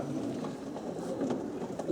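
Racing pigeons coo softly and continuously close by in a basket, with faint voices in the background.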